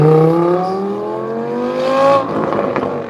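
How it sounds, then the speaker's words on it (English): An Audi R8 V10 Plus with a 5.2-litre naturally aspirated V10 revs hard, its loud pitch climbing steadily for about two seconds before cutting off abruptly into a rough, crackling settle. "So Audi R8 V10 Plus. Just have a listen to this. It sounds like an out-and-out race car, doesn't it?"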